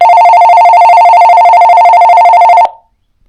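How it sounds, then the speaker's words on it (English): An AT&T cordless telephone handset ringer at high volume: a loud electronic ring, a steady buzzing trill held for about two and a half seconds before cutting off into silence. "for the ringer itself, on the side here, it can get really loud"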